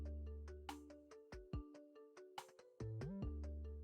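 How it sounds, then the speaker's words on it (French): A mobile phone plays a melodic ringtone for an incoming call, a bright synthesized tune of repeated notes with low bass tones, loud and close, with no talking. "On va appeler sur mon téléphone"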